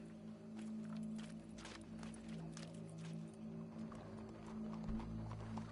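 Horse hooves clip-clop in Red Dead Redemption 2, a steady rhythmic trotting that carries on throughout over a constant low background rumble.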